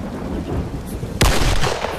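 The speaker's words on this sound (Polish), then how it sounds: "bo deszcz ci pada?" Thunder cracks sharply and close in the I.G.I.2 video game, a sudden loud clap about midway that rolls on over a steady hiss of falling rain.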